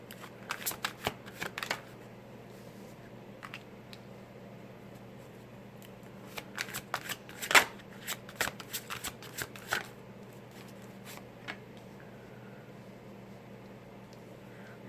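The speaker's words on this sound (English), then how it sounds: "I felt a little bit of resistance when I was shuffling the Mystical Shaman." Mystical Shaman tarot cards being shuffled by hand, bursts of crisp riffling and flicking clustered at the start and middle with quieter stretches between, close and alone without talk.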